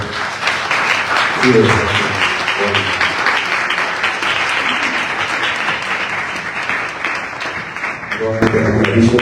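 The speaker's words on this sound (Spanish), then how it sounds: "vamos a recibir también con un fuerte aplauso al segundo speaker" Strong, sustained applause from a lecture audience at a spiritual intelligence colloquium welcoming a second speaker, dense and loud throughout with voices mixed in.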